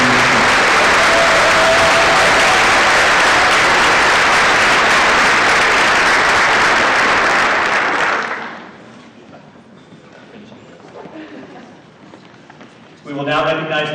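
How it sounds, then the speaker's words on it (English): An audience at a school district staff recognition ceremony claps for staff members, loud, dense applause lasting about eight seconds before fading out, followed by quiet room noise and a voice starting to speak. "If we can please have a round of applause for all of our staff members for attending this meeting."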